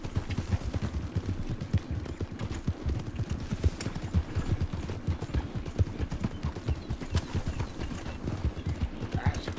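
Horse hooves clip-clop steadily at a fast, rhythmic pace in a ranch roleplay video game, close and continuous across the whole stretch, with faint background noise.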